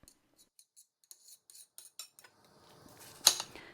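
A metal spoon scrapes seeds off a melon slice on a plate in a series of short, faint clinks and scrapes, ending in a louder rasping scrape near the close with no talking.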